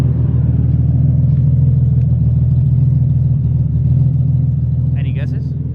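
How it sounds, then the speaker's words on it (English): A street-tuned Nissan 370Z running E85 with a ghost cam tune idles up close, giving a loud, steady low rumble with a subtle lope that holds for several seconds. "I made a vacuum leak to sound like that. It's a ghost cam, actually."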